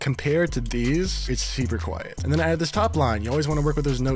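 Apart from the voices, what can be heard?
None of the usual background noises is heard.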